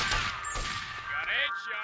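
Gunfire in GTA Vice City, a few sharp cracks early on among a busy game mix of tonal effects and a rising whine, with a voice briefly present.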